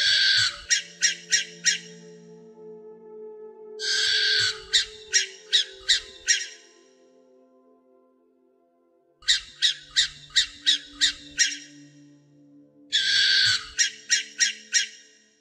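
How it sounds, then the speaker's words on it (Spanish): A barn owl perched on a tree branch at night gives four separate bursts of rapid, raspy, repeated calls with pauses between them. Faint low tones sit underneath. "Esa noche estaba deambulando una lechuza, quien en su afán de descansar se posó en la rama de un árbol y empezó a cantar."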